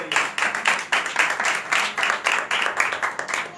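A church congregation claps in a steady rhythmic beat, about three to four claps per second, loud and sustained for several seconds without pause.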